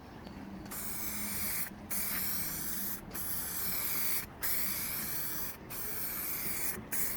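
White paint sprayed onto car letters from an aerosol during a Heinkel Trojan restoration: a loud, close, continuous hiss in long bursts with short regular pauses between them, no talk.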